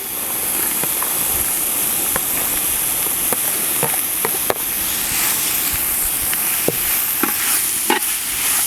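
Sliced carrots and beans stir-frying in a pan, a steady loud sizzle broken by scattered scraping clicks of a spatula stirring; no talking.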